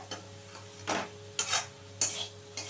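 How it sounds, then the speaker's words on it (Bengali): Banana flower cooks with tomato in a pan, with a low sizzle under it and several sharp scraping bursts from a spatula against the pan, close up and without talking. "খুব ভালোভাবে আমাকে কষিয়ে নিতে হবে।"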